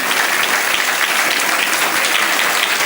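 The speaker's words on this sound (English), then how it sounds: "A big round of applause to our Indian Army" Audience applause for the Indian Army at a school Independence Day celebration, steady dense clapping from a large crowd filling the whole stretch at an even loud level.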